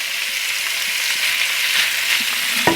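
Shrimp sizzle in melted butter in a pan, a steady close frying hiss with faint crackles throughout and one brief clatter near the end; no talking.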